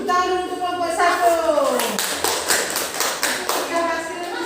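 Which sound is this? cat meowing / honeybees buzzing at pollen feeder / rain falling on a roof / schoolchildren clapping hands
schoolchildren clapping hands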